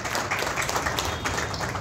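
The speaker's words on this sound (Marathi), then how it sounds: "जोरदार टाळ्या वाजवा आपण त्यांच्यासाठी।" An audience claps for a poet at an award ceremony in Pune, with steady moderate applause throughout and no voices over it.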